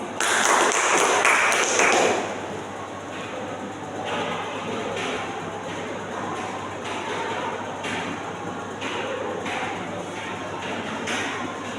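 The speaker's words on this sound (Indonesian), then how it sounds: "Beri tepuk tangan untuk Mas Udis." An audience claps hands in a dense burst that quickly settles into softer, scattered clapping that continues over a steady background hum.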